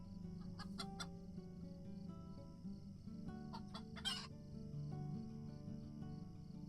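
Chickens cluck and one crows in the Lord of the Rings Online video game, several short bright calls over a steady low ambient hum, moderately faint and without talk.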